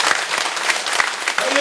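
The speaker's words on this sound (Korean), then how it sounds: "우리 한번 다 같이 한번 그분들을 위해서, 우리를 위해서 큰 박수 한번 올리십시다" Big burst of audience clapping at an outdoor prayer rally in Gwanghwamun, dense and loud, with a few sharper individual claps standing out and a voice briefly audible near the end.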